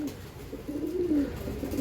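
Breeding pigeons of a top racing breed cooing nearby, a soft, low throaty coo rising and falling over a couple of seconds amid light background noise.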